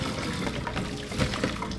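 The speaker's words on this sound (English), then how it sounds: "So for the corn, you're gonna pour all this hot water in here" Hot water being poured off boiled corn into a drain, a short, soft splashing and trickling pour heard close up and alone.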